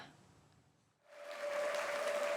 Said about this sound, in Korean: 박수를 받으며 단상에 오릅니다